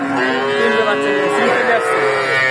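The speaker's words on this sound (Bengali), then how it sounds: "আর এই হাটটিতে অসংখ্য পরিমাণ উন্নত জাতের বকনা গরুগুলো পাওয়া যায়।" Heifers of improved breeds mooing at an open-air livestock market, a drawn-out lowing call that rises and falls, loud and close, with crowd murmur faintly beneath.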